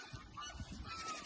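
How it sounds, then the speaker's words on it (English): Geese honk in a rough, continuous burst of calls outdoors near a nesting area where goose eggs lie, the honking fairly close and steady throughout. "One of the geese."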